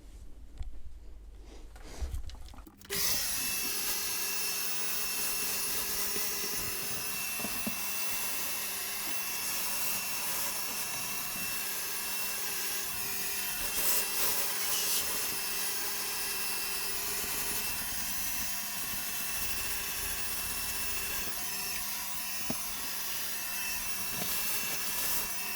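A vacuum cleaner cleans a Commodore Amiga A500, starting after a quiet moment with a loud, steady whine that holds evenly close by, unchanged, with no talking throughout.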